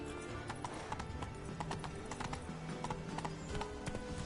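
Rhythmic clip-clop of horse hooves at a steady trot in The Witcher 3: Wild Hunt, fairly close, with a faint whinny and a background of ambient game sound.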